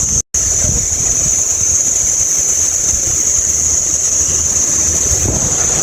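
Waves washing onto a beach in Thailand with boats moored nearby, heard as a steady broadband rush mixed with wind buffeting the microphone, continuous and fairly loud with no talking.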